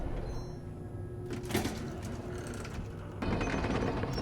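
Elevator in the video game Dandy World moving along with a steady mechanical hum, gear-like ratcheting and a brief clank partway through, then a louder rumbling section near the end.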